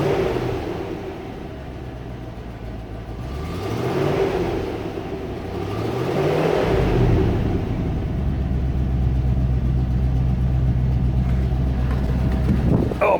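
The engine of a 1994 Range Rover settles back to idle after being revved, a steady low rumble with pitch sweeps as the revs fall and level off. Nobody speaks.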